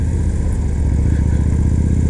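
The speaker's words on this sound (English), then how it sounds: "Like any standard V-twin American bike" A Victory Highball V-twin motorcycle engine runs while riding, a loud, close, steady throbbing rumble with a dense pulsing beat and road and wind noise. No voice is heard.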